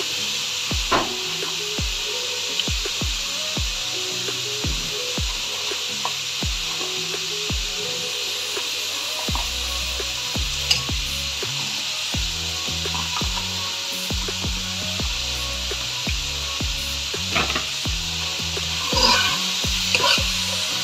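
Beans and carrots go into a pan with frying onion and capsicum, bringing a loud, steady sizzle under repeated scraping and knocking strokes of a wooden spatula as the vegetables are stirred.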